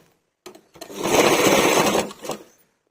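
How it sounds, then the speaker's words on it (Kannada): A sewing machine stitches piping onto a kalamkari blouse in one short, close burst of rapid whirring, starting and stopping within about two seconds. "ಈ ಪೀಸ್ ಮೇಲೆ ಇಟ್ಟು ಸ್ಟಿಚ್ ಮಾಡ್ಕೊತ ಬರಬೇಕು"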